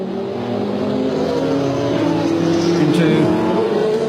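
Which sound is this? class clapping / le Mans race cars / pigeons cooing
le Mans race cars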